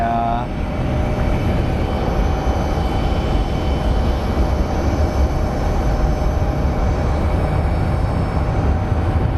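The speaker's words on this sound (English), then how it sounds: "It is Southwest 2039 coming in from Vegas, the 737-800 series." A Southwest Airlines Boeing 737-800 arriving at Phoenix Sky Harbor gives a loud, continuous jet roar with a faint engine whine above it, steady throughout.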